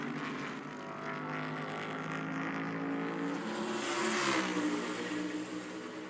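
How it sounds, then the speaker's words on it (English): A NASCAR race car on its qualifying lap at the Dollar Tree 301, a steady loud engine roar that swells as the car passes closer, then eases slightly. "Connor Zilich comes up for his qualifying lap"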